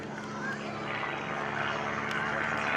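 Aerobatic airplane flying a hammerhead turn at an airshow, a continuous propeller engine drone that swells slightly over the clip, heard at a distance with crowd noise and a voice over the loudspeaker.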